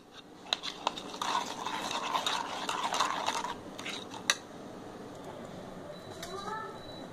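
Masala chicken being mixed with salt, red chili paste, fenugreek leaves, chaat masala and garam masala in a bowl, with light clinks and scraping of a utensil against the bowl, a few sharper knocks, and a voice speaking over it.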